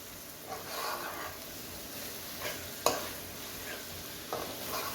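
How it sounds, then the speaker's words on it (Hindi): Chicken keema with capsicum is stirred in a pan, a spoon scraping in short separate strokes over a soft background sizzle, fairly quiet and close, with no speech. "अब इसको अच्छी तरह हिला लेते हैं ताकि ये अच्छी तरह मिक्स हो जाए"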